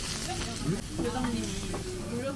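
Food sizzles on a tabletop grill at a Tokyo restaurant, a close, steady frying crackle with faint background murmur.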